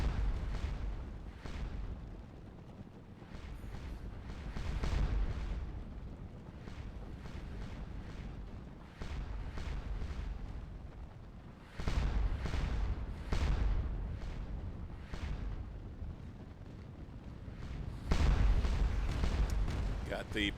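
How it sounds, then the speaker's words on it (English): Napoleonic artillery booms across the field at the Battle of Ligny in Scourge of War: Waterloo, with irregular heavy rumbling shots and gusty, noisy swells of battle ambience. "So here we go with our artillery on this side of the field."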